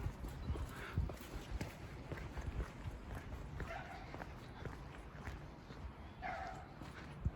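A dog barks a few times at a distance, with short yips against outdoor footsteps and ambient noise near a converted church.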